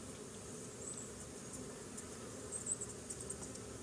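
Steady low insect buzzing fills the clip, a continuous hum of many honeybees close by at a hive with faint outdoor noise above.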